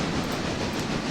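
A train rolls along in the railroad game Railroader, a steady, moderately loud rumbling drone with no breaks over one short stretch.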